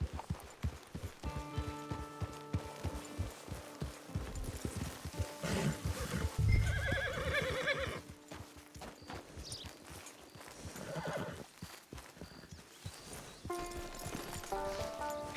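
A horse in a Western open-world game neighs and clip-clops along, hooves thudding in an uneven walking rhythm with a loud whinny midway, over faint background music.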